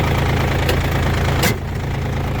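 A Yanmar AF224 Japanese mini tractor, lightly warmed up, idling with a loud, steady diesel chug and low throbbing pulse, close by, with a brief clatter near the end and no talking.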